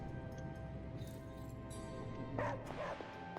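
A dog barks and yips in the video game Marvel's Midnight Suns, a few short calls around the middle of the clip over a steady game music and ambience bed, with no talking.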